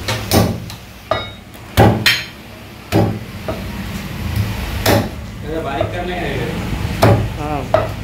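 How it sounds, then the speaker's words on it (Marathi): Trotters (paya) being chopped for soup, with around eight sharp, heavy cleaver blows at uneven intervals, loud and close, while voices talk over the later strikes. "सो चला आता आपण हे पाय कटिंग करायला घेऊया"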